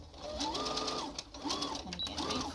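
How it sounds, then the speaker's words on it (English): A sewing machine stitches fabric for a cloth face mask in three short bursts of fast rhythmic whirring, each rising and falling in speed with brief pauses between, close and fairly quiet. "you start stitching in the direction of your pin line"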